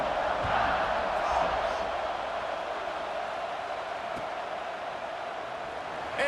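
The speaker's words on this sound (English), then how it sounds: "this crowd is feeling themselves after that last drive" A stadium crowd in the EA Sports College Football 26 video game roars steadily before a kickoff in an Alabama vs Texas Tech matchup, a broad, sustained cheer that eases off slightly toward the end.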